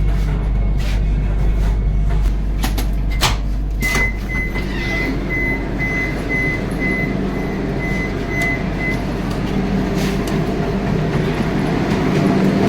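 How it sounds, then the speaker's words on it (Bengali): The Vande Bharat Express pulls into Kharagpur station on its Howrah to Ranchi run, a steady low rumble of rolling carriages with scattered clanks and a thin sustained tone, loud and close, without talk. "নির্ধারিত সময় থেকে 5 মিনিট বিফোর ট্রেন এসে পৌঁছালো তার ফার্স্ট হল্ট খড়গপুর"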